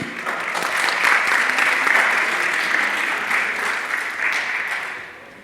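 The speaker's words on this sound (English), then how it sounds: "I want to also extend a round of applause to our students who are here" An audience at a university event gives a steady round of applause for students, dense even clapping that holds for several seconds before tapering off.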